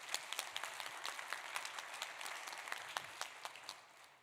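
Conference attendees applaud the banquet and hotel staff with a faint, distant round of clapping from a large room, a dense steady patter lasting several seconds.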